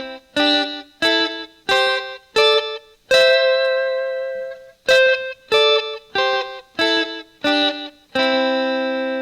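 Electric guitar plays a harmonized pentatonic lick with distortion and effects, in short, evenly spaced two-note bursts, one longer sustained note in the middle and a held final note, loud and alone.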